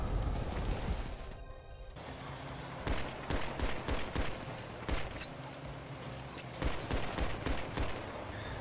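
Gunfire in the GTA Online video game: dense bursts of shots and rapid automatic fire run steadily under a loud, continuous game soundscape, with no clear speech.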